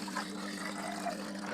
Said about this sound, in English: I shall fill it with water from the top there.